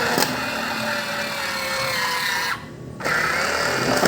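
USB electric household citrus juicer motor running under load, a loud, steady buzzing whir close up that drops briefly near the end before resuming.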